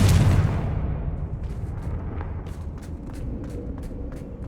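A Confringo blasting spell from Hogwarts Legacy bursts in a room: one loud explosive boom at the start, its rumble fading into a low roar with faint crackles and ticks afterward, and no voices.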